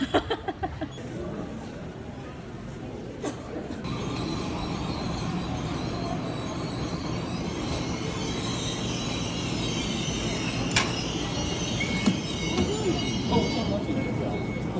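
Steady rumble of a moving passenger train heard from inside the carriage, with continuous wheel and track noise, a few brief clunks and squeals, and faint voices in the background.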